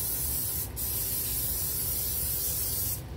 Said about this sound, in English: I like to spray the whole thing again on top so it won't dry out.